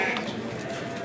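Lambs at the Kadirli livestock market give short bleats over a dense, steady crowd murmur of animals and people, close and fairly loud throughout.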